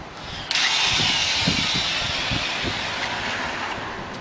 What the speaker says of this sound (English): You want a good mixing bit like that, and a low speed, high torque drill